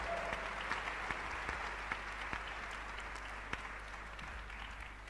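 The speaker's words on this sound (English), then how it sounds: "Ladies and gentlemen, please welcome her with a warm round of applause." Audience applause at the Global Entrepreneurship Summit in Hyderabad welcomes a speaker to the stage: steady, dense clapping from a large crowd fills the room from start to finish, with a few sharper individual claps standing out.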